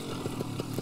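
Paramotor engine idling steadily after carburettor tuning, a close, loud buzzing drone with a slight pulsing rhythm, heard alone.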